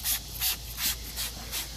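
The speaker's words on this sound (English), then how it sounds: "I'm just going to spray it again." Engine cleaner and degreaser, diluted 15:1, sprayed onto an engine in five short, evenly spaced hissing bursts over steady background noise.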